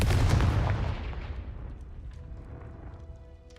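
Confringo spell blast in the video game Hogwarts Legacy, a heavy booming explosion that decays over a few seconds into a faint rumble.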